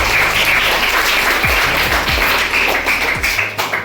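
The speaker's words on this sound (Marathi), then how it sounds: "टाळ्या वाजवा ह्या विद्यार्थ्यांना" Classroom applause for students who built a science model wiring a battery to a buzzer and light as a house bell, a dense steady patter of many hands with low hum beneath, tapering off near the end.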